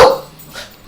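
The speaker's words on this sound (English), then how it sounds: "And the dog barks for emphasis." A single sharp dog bark opens the moment, loud and close, then fades into quiet room tone with no talk over it.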